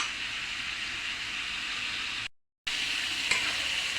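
Chopped cucumber frying with spices in a pan makes a steady, dense sizzle throughout, cut by a brief dropout of silence midway, then resuming at the same level with a faint click, and no one speaks.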